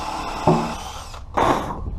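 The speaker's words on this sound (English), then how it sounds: "And I'm using these spade bits." A spade bit bores through wood with scrap wood clamped underneath, giving two short bursts of power-drill whir with a pause between, close and fairly loud.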